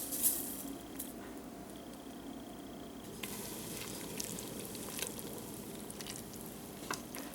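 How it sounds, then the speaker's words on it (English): A steady, low-level bubbling and hissing of liquid boiling in a pot, continuous throughout with no voices. "it is boiling"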